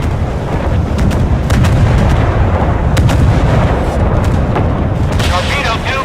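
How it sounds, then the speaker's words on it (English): Naval artillery gunfire in a video game rolls on as a loud, dense, continuous barrage of booming shots and rumble, with sharper cracks poking through near the end. "Ready to open fire on the enemy."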